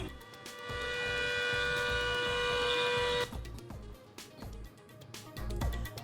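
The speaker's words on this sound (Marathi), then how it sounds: "हल्ल्याचा सायरन वाजवून दिला इशारा" An air raid siren sounds during a civil defence mock drill at a school in Dadar, a loud steady wail held for about two seconds before cutting off, leaving traffic and street noise with scattered honks.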